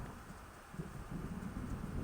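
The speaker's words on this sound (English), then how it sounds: "It seems there's a storm coming." A thunderstorm rolls in within Alan Wake, heard as steady rain hiss under a low continuous rumble of distant thunder, fairly quiet and unbroken.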